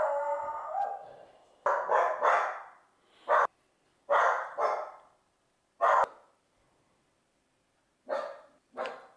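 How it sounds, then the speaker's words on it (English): Dogs bark indoors in loud, close bursts: single barks and quick pairs, about seven in all, with short silent gaps between them. "Dogs."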